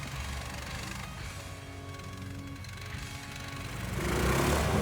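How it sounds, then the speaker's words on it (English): An 80 HP Countryman motorsled engine runs steadily at close range with a low, continuous drone, swelling louder near the end as it revs or pulls away in a winter outdoor setting. "The motorsled Countryman with 80 HP engine."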